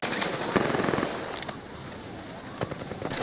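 Gunfire in a shooter video game, scattered rapid bursts and sharp single shots over a dense crackling battle din, moderately faint with a mix of near and distant firing.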